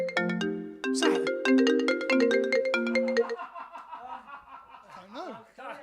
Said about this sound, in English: Don't ever let me say that my phone goes off again, mate.